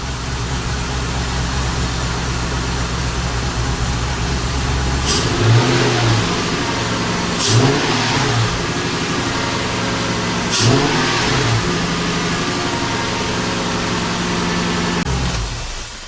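A Lexus GS400 engine idles roughly and loudly after an upstream oxygen sensor replacement, with an uneven, lumpy rhythm, punctuated by three short revs before settling back and cutting off near the end.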